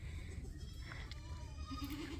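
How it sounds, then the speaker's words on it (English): Nanny goats on a farm bawl for their kids from across the way, several faint, wavering bleats rising over steady outdoor background noise, the clearest one near the end. "some of the nannies are standing on the other side bawling for their kids to come over"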